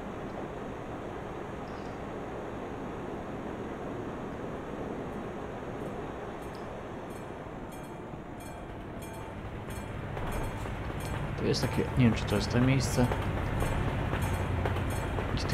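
Trains rolling past in the Euro Truck Simulator 2 game on the Białystok to Vilnius route, a steady rumbling that swells louder with rhythmic clattering toward the end, under someone talking.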